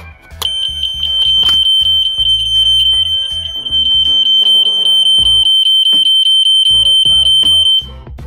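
A fire alarm system sounds loudly after a BG-10 pull station is pulled during a system test, a sustained piercing electronic tone with rhythmic horn pulses that stops near the end.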